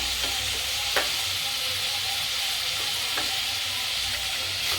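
Tomatoes and crushed garlic sautéing in a pan give a steady, close hiss of frying, broken by a few sharp clicks of stirring, with no voices.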